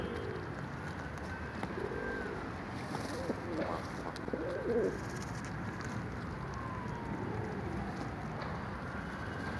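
Pigeons coo softly and repeatedly in a coop, their low rounded calls rising and falling over a steady background hiss, with no talking.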